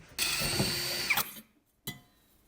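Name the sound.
drilling a small hole for a survival stove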